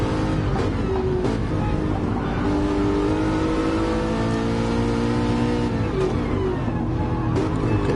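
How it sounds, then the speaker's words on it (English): Race car engines from an Aston Martin and a McLaren in a PS4 racing game rev and drone continuously at close range, with pitch rising and falling through gear changes and no pauses. "Moz is in the Aston Martin and doing a good job here. Can he take Incy in the McLaren?"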